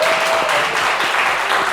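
A studio audience on a French-language talk show applauds the on-set team, producing a dense, steady burst of clapping that fills the whole short stretch at a strong, even level.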